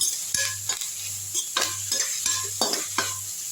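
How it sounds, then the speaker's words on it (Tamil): Chopped onions and a generous handful of curry leaves fry in hot oil in a pan while a spoon stirs and scrapes, with repeated metallic clinks over a continuous sizzle, close and clear with no talk. "வெங்காயம் நல்லா வதங்கட்டும்."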